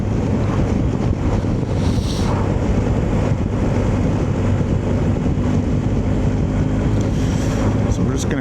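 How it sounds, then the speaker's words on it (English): Steady, heavy wind roar buffets the helmet microphone throughout a ride on a 2024 BMW R1250 GS Adventure on a blustery day, a dense constant rush that masks any engine detail. "It's quite a windy, blustery day."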